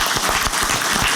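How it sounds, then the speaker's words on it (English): Conference audience applauding panelists and a moderator after a European defence panel, dense continuous clapping filling the hall at steady loudness throughout. "please join me in a round of applause for our panelists and our moderator"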